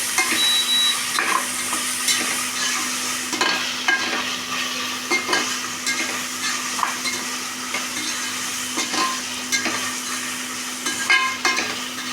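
Ginger garlic paste sizzles and fries steadily in a pan, with occasional stirring scrapes and clinks over a constant crackle, near and fairly loud, with no talk.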